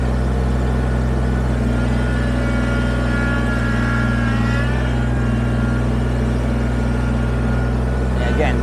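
A Kubota BX23S compact tractor in four-wheel drive drones with a loud, steady engine hum while moving logs on a property being cleared, with someone talking over it.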